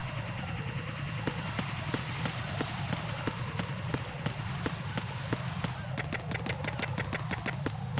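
A helicopter's rotor thumps in rapid, steady pulses over a constant engine drone, sustained and fairly loud, with a layered electronic game-like quality, in Metal Gear Solid 2: Sons of Liberty HD.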